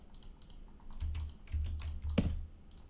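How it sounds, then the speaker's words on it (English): A computer mouse clicks repeatedly during a game, soft quick taps scattered through a low background hum, close and quiet. "Just be a little bit careful with your clicking."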